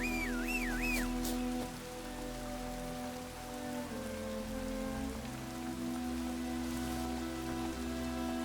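Steady rain patters in the video game Witcher 3 Wild Hunt, a soft continuous hiss running beneath sustained tonal game music.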